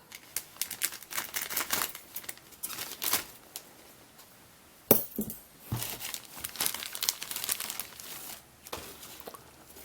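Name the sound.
cutting open plastic bag of chrome model car kit parts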